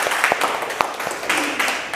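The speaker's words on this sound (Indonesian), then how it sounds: "Tepuk tangan untuk kita semua." Applause from participants in a university teaching-certification training session, brief scattered claps from a small group, moderately close and uneven, blended into a noisy room.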